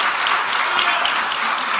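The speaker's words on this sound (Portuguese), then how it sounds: "Vamos aplaudir o Senhor" Church congregation applauding during a worship service, a bright continuous burst of many hands clapping, fairly loud and close, with no talk over it.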